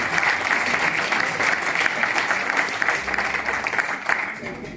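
Audience applause at a gala dinner in Sarsina, steady dense clapping from a room of guests, moderately loud and even throughout.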